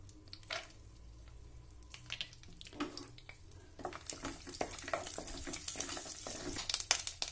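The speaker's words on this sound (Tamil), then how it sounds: "ஃபஸ்ட்டு தாளிக்கிறதுக்கு கொஞ்சமாக பட்டர் போட்டுக்கலாம். கொஞ்சமாக ஆயில் ஊற்றிக்கிறேன்." Cinnamon, cloves, cardamom and cashews fry in a little butter and oil as the base for a paneer gravy, giving a soft, steady sizzle with scattered crackles and pops that grow busier toward the end.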